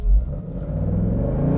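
A Ford Mustang V8 engine rumbles steadily and close by, a deep low throb with a brief louder surge at the start and no voices.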